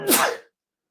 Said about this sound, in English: Hang on a second, I'm going to sneeze.